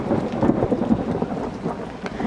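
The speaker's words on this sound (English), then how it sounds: "I know you guys can hear the thunder" Low rumbling thunder rolls steadily beneath a constant wash of rain, with no voices.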